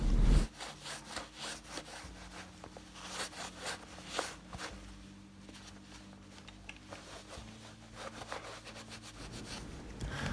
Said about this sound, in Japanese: それではウエスを使って拭き取っていきましょう。